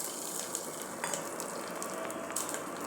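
Cinnamon, fennel seeds, cloves and green chilli frying in hot oil, a soft steady sizzle with faint crackles and pops, close and quiet, no voices.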